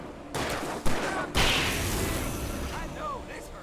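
Gunfire in the video game Alan Wake Remastered: a dense volley of shots with sharp bursts around the first and second marks, then sustained rumbling fire, with voices and in-game sounds mixed in.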